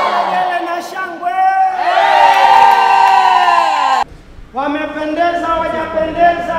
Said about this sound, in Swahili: Kelele na shangwe.